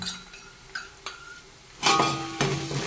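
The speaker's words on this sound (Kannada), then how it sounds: "ಇಲ್ಲಿ ಜಿಂಜರ್ ಗಾರ್ಲಿಕ್ ಪೇಸ್ಟು ಒಂದು ಮೂರು ಸ್ಪೂನ್ ಅಷ್ಟು ಬರುತ್ತೆ ಸೊ ಅಷ್ಟು ಹಾಕ್ತಾ ಇದ್ದೀನಿ" Ginger garlic paste goes into masala frying in a pot for biryani, with a few light utensil clinks at first, then a sudden loud burst of sizzling that swells twice and keeps hissing.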